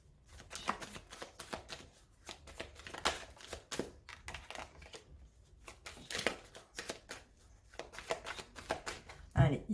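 Tarot cards are shuffled and cut in quick, crisp riffles and flicks, the papery snaps coming in bursts at close range, with a person talking quietly at times.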